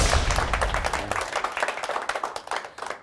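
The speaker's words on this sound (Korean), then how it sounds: "박수 쳐주세요." A lecture audience in a hall claps for a speaker at a corporate talk, a quick burst of individual claps that starts full and thins into scattered, distinct hand claps before fading out.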